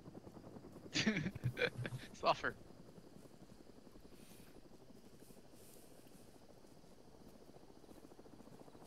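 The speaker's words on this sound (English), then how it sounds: "They just know that there's a helicopter walking around." A helicopter in a military game drones in a low, steady rotor hum throughout. It is fairly faint, and a person speaks briefly over it near the start.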